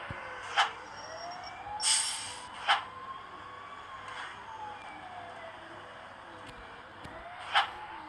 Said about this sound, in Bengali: এর বাদে পুলিশের সাইরেন দেখাচ্ছে।